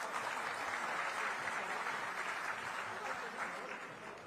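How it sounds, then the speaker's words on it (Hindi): Applause rises from the audience at a Rajasthani community gathering in Guwahati with the chief minister present. It comes as a quiet, steady wash of clapping from a distance that lasts throughout. "उन निरंतर प्रयास के लिए जोरदार तालियां एक बार।"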